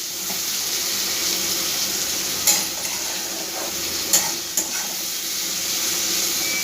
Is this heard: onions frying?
yes